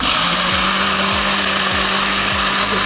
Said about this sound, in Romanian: acum o să trebuiască să îi dăm drumul la mixer